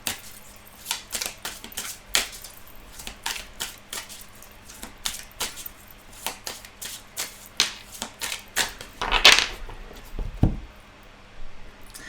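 Oracle cards being shuffled by hand during a love tarot reading, a long run of quick crisp riffling flicks and soft slaps, close and fairly steady, with one louder bump near the end and no talking.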